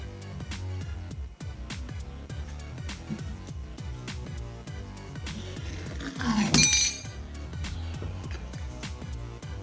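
A Woodward Fab shear cuts through clamped metal with a single sharp crunching snap about two-thirds through, standing out over a steady, rhythmic background of other noise.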